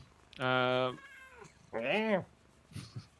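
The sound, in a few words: cat meowing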